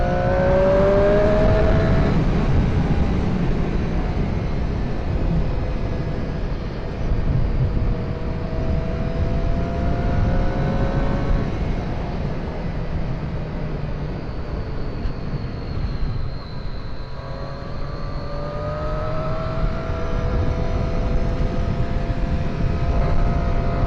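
A 2017 Triumph Street Triple RS motorcycle's smaller-displacement engine revs and pulls through the gears on a test ride, rising and falling in pitch with steady wind and road roar, loud and close, with no talking.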